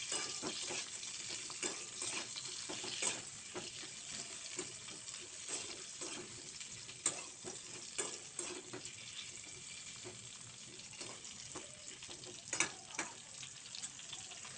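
Sliced bitter gourd fries in oil in a pan over a lowered flame with a continuous soft sizzle, while a utensil stirring it gives repeated scraping taps close by.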